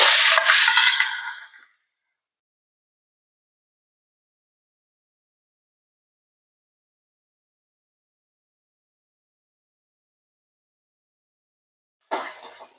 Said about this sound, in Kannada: ಈಗ ಇದ ತುಪ್ಪದಾಗ ಇದನ್ನ ಕ್ಯಾರೆಟ್ ಎಲ್ಲ ಹಾಕೋತೇನೆ ನಾನು.